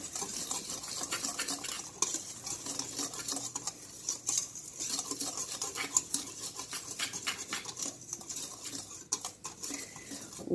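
Dry ingredients for chocolate muffins, including flour, bicarbonate of soda, yeast and salt, mixed by hand in a bowl with quick, soft scratchy whisking strokes and light clicks, close and fairly quiet, without talk.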